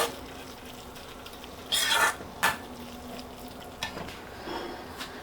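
Eggplant and hilsa fish mash stirred in a pan over medium heat: a soft low sizzle with a few brief scraping and rubbing bursts of the spoon against the pan, no talking.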